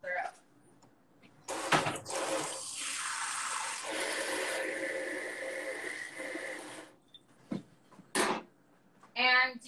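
Half a cup of water pours into a pan for a maple syrup and thyme glaze, a steady splashing rush lasting several seconds, with brief clatters and a voice speaking before and after.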